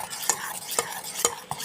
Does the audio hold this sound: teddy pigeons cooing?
no